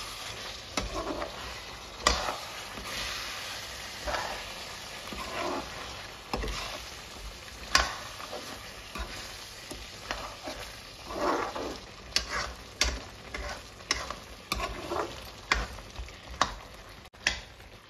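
Green hariyali chicken curry is stirred and mixed in a sizzling pan, with repeated scraping and knocking strokes at an uneven rhythm over a soft background fry.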